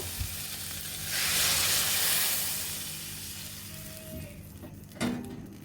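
Water poured into a pan of sizzling prawn curry: loud hissing surge that swells for a second or two, then settles into a quieter simmer with a couple of spoon or pan knocks near the end.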